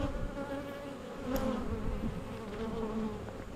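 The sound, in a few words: honeybees buzzing around an open beehive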